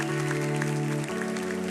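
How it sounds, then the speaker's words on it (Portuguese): A church congregation applauds during a service, steady clapping spread across the room over sustained keyboard chords that shift midway, with no break in the sound. "Pode aplaudir a Jesus."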